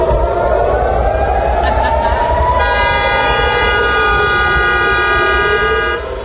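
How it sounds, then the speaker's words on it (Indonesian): A wailing air raid warning siren in Tel Aviv rises and holds steady, sounding over loud background city noise, with a harmonic drone that persists throughout. "Suara sirene tanda peringatan terdengar di sejumlah titik di Tel Aviv."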